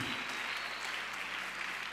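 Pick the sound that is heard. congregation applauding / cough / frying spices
congregation applauding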